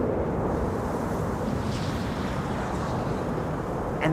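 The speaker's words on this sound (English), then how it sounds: "the wake turbulence sounds insane, like from another world." Wake turbulence roaring behind a landing airliner at Amsterdam Schiphol runway 06: a steady, dense broadband rumble and whoosh throughout, loud and continuous with no talk over it.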